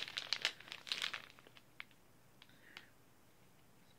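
Close crinkling and rustling of a plastic package of spaghetti pasta, a quick burst of crackles that tapers into a few sparse, faint crinkles.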